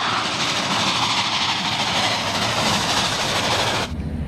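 A classic toy train with six wheels gives a loud, steady rushing rumble with a clattering texture that cuts off abruptly near the end.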